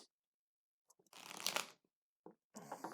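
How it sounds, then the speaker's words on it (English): Tarot cards being shuffled by hand in short riffling bursts, a brief rustle followed by a louder, longer shuffle and another starting at the end, close and alone. "We're going to keep shuffling for a second."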